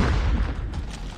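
A grenade explodes in Call of Duty Mobile during a deathmatch, a brief deep boom with rumbling low end that decays quickly, close and loud.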